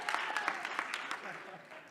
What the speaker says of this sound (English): Can you please clap hands as I continue?